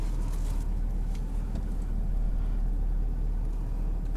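A 2022 Ford F-350 XLT Powerstroke diesel pickup underway in normal drive mode, its steady low rumble and road noise heard from inside the cab, continuous and even with no talk.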